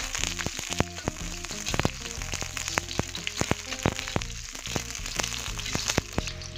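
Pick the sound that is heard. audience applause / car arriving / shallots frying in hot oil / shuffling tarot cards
shallots frying in hot oil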